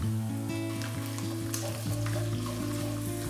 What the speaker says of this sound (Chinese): 下郫县豆瓣